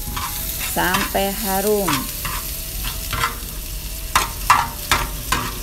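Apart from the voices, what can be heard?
stir-frying chopped ginger, lemongrass and lime leaves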